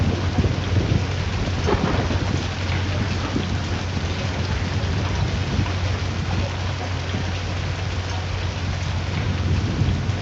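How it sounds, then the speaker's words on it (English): Heavy rain pours steadily in a storm-chasing video game, with rumbling thunder booming underneath throughout; dense, loud and continuous with no voices. "That was some lightning."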